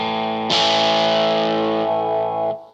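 A Squier Paranormal Esquire Deluxe electric guitar played clean through the straight pickup with volume and tone bypassed: one bright strummed chord rings out loud and alone, sustaining for about two seconds before being cut off.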